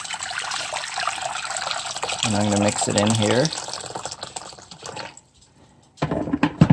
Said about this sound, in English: And then I got some boiling hot water.